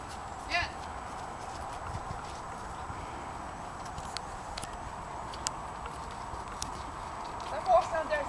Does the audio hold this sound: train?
no